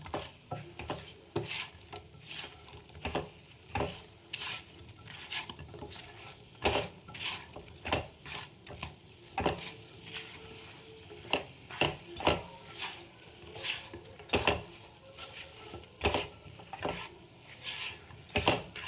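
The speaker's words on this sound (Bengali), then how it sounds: "এবার এর মধ্যে আমাকে মিশিয়ে নিতে হবে" Fried potatoes are stirred into sauce in a heavy pan, giving irregular close scraping and clattering strokes of a utensil against the pan. The sound is quiet overall, with no talking.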